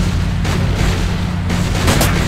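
Loud gunfire blasts and booms without pause at a giant marble Abe Lincoln in the Sam & Max video game, a dense, rumbling barrage with bursts of louder impacts.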